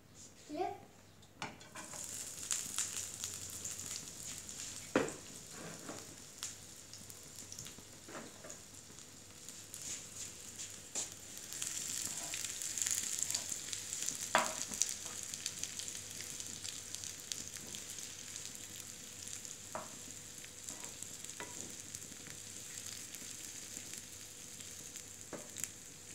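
Onion frying in oil in a pan, a steady crackling sizzle running throughout with occasional clinks and stirring knocks, close by, while a voice speaks at times over it.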